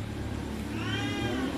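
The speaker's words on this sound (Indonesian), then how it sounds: "Kucingnya kok ngeong-ngeong." A cat gives a single drawn-out meow over a steady low background hum, fairly close and clear.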